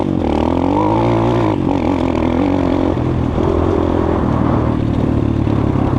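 A Skybike CRDX 250 motorcycle ridden off-road across village fields, its engine droning loud and close with steady revving and rattling clatter throughout, with no talk over it.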